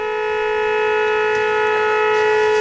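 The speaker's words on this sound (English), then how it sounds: "that noise you're hearing? That's the kettle. Not exactly a moo, more of a horn, but certainly know that it's boiling." A stovetop kettle whistles steadily as the water boils, a loud sustained horn-like tone with several stacked pitches, holding without a break.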